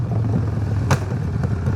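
Harley-Davidson Sportster 1200 motorcycle engine while riding: a deep, steady low rumble close by, with a brief sharp clatter or thump about halfway through.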